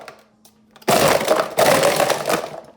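A Ninja blender pulses a chocolate, banana and peanut butter protein shake in two loud, roaring bursts of blade whir and churning ice. The bursts are separated by a brief dip, after a quiet lead-in.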